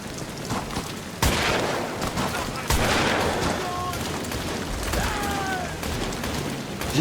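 Gunfire in the horror game Amnesia: The Bunker, with a few sharp shots cutting through a constant noisy background, and faint tonal sounds between them.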